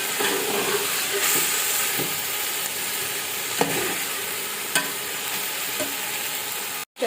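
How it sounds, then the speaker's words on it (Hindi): Boiled chickpeas fry in a pot for chana pulao, giving a steady hissing sizzle with occasional scraping and clicking from stirring, close and continuous without talk until an abrupt cut at the end. "अब हम इनके अंदर बॉइल्ड चने ऐड करते हैं और थोड़ा सा हम इसको मज़ीद भून लेते हैं।"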